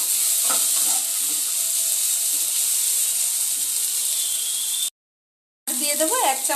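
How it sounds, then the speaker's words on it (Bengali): Raw peanuts fry with spices in a hot pan, giving a loud, steady hiss and sizzle with a few stirring scrapes, then a short cut to silence before the frying resumes. "এবার কিছুটা কাঁচা বাদাম দিয়ে দেব দিয়ে মশলার সঙ্গে একবারে নেড়ে ছেড়ে ভেজে নেবো"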